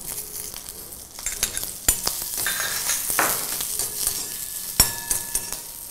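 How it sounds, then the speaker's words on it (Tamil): Small onions (shallots) fry in a pan for a Kootuchaaru kulambu, a loud steady sizzle broken by sharp clinks and scrapes of a stirring utensil against the pan, with no talk. "இதனுடன் சின்ன வெங்காயத்தை போட்டு வறுக்க வேண்டும்."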